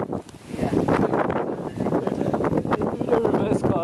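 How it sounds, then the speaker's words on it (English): Outdoor wind buffets the microphone in a continuous, loud rumbling gust, with people talking faintly underneath during a card game of Uno Flip. "the wind is blowing the cards away"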